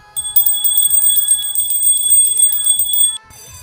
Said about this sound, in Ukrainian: Дзвонимо дзвонку, щоб чули всі на світі, що починають знов навчатись діти.